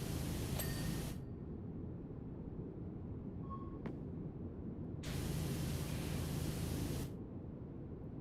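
A pressure washer hisses in long, steady bursts in the Powerwash Simulator video game while cleaning a subway, the loud spray cutting out briefly and then resuming, all without talk.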